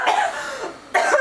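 Two close, harsh coughs in quick succession with a short pause between them.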